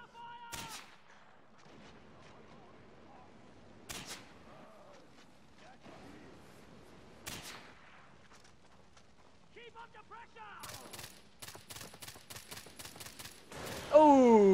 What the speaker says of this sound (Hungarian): Mekkorát robbant!